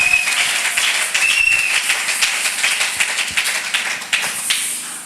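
A church congregation at a Sunday service applauds loudly and steadily, many hands clapping together in a dense rhythmic mass that carries on throughout with no pause.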